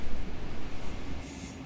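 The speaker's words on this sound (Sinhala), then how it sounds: "ඔය Zurich station එකේ ඉඳන් Wettliberg වලට යන ට්‍රේන් එක තමයි මේක." Train running from Zurich station up to Uetliberg hill, a steady close rumble of wheels and carriage with broadband rolling noise throughout and no talk.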